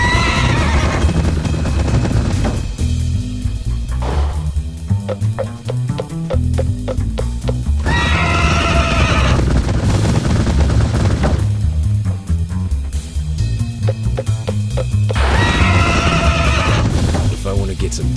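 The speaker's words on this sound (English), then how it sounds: "One, the Demon Horse." A demon horse in Minecraft Bedrock Edition, a Nether monster-hunting game, lets out loud, repeated whinnies at intervals over a busy mix of game effects, including gunfire-like bursts and hoofbeats.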